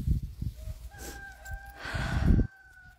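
Chickens making loud near-field clucks and short crowing calls in quick succession, with a rooster-like drawn-out call toward the end, cut off abruptly.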